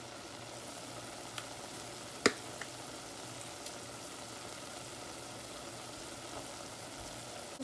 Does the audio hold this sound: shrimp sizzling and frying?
yes